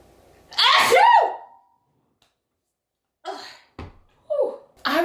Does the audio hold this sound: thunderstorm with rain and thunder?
no